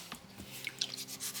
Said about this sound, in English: When I'm rinsing, I'm making sure I don't scrub it on the bottom of the bucket.